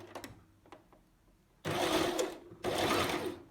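Sewing machine stitching darts in fabric, heard up close in two steady runs of about a second each, separated by a short pause and preceded by a few soft clicks of handling.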